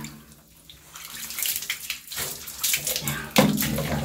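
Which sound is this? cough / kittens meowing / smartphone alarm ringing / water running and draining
water running and draining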